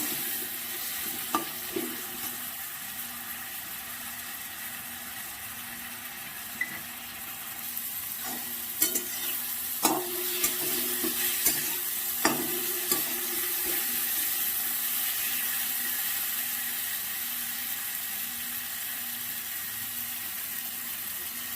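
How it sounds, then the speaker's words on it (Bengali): Tomato paste frying in a pan for a home-style duck egg curry, with a soft continuous sizzle and scattered spoon scrapes and clicks clustered in the middle, close and moderate, with no voices. "টমেটো পেস্টটা ভালো করে ভেজে নেবো"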